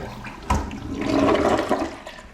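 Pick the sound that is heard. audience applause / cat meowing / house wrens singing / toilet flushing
toilet flushing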